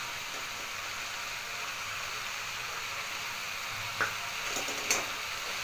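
Chicken keema frying with spiced potatoes in a pan, a steady soft sizzle and hiss throughout, with a couple of brief scraping stirs near the end, quiet and without speech.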